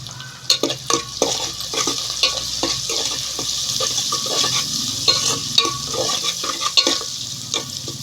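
Sliced onions with a little turmeric soften and sizzle in a pan over a wood fire, a steady frying hiss broken by repeated sharp scrapes and clinks of a stirring spoon.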